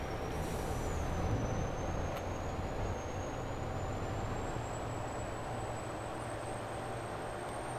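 Heavy truck engine in Farming Simulator 22, a loud, steady broadband drone with a faint rising whine, running continuously with no speech.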